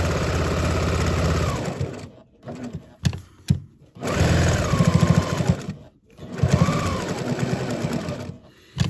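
Sewing machine stitching around a fabric side-pleat face mask with a nose wire, running in three loud, steady bursts separated by short pauses with small handling noises.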